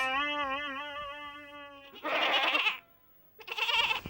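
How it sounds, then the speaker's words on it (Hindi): A goat bleats once in a long, wavering, nasal cry up close, followed by two short bursts of rough, noisy sound. "अरे बकरी मिन करने वाली"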